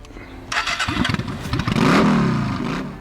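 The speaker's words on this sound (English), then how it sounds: "The V Star 650 simple V-twin hums along at low RPM" A Yamaha V Star 650 cruiser's air-cooled V-twin engine starts up and settles into a loud, close, steady low-RPM rumble, with a few sharp cranking pulses before it catches, and no talking.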